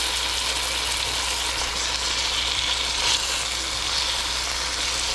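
Seasoned chicken laid seasoned side down in a hot pan with mushrooms nearby, giving a loud, steady, close-up sizzle that holds evenly throughout with no talking.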